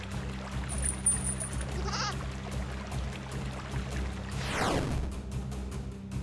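A goat bleats in a flash video game, a short bleat early on amid steady game background tones, followed later by a sweeping descending whoosh effect.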